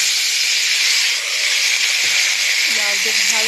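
Chopped bottle gourd hits hot oil in a pan holding fried snakehead fish, giving a steady loud hiss that runs unbroken throughout, with a faint higher tone rising near the end.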